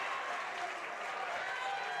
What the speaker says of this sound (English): you can never discredit the amount of energy the crowd's bringing here today with the student cheering section